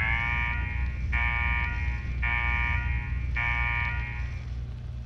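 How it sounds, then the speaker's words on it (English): A repeating electronic alarm in the Fallout 4 video game blares in three long, steady harmonic bursts separated by short gaps, loud and continuous over a low droning background hum. "What the hell is that alarm?"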